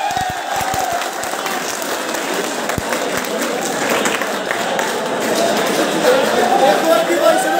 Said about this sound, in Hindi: एक बार ताली बजा दो रजिस्ट्रार साहब।